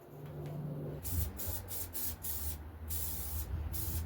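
Repeated short bursts of silicone shine bubblegum-scented spray polish, several hissing sprays in quick succession close to the mic during a 1992 GT Zaskar LE bike build, with a low hum underneath.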